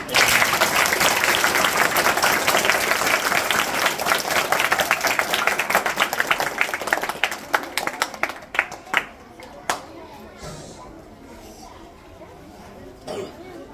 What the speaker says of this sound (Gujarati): એકવાર ફરીથી બધા માટે તાળીઓ પાડી દે